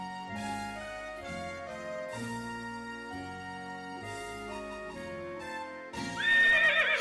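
A horse whinnies loudly near the end, over a backdrop of steady music; soft hoof clip-clops are hard to pick out beneath it.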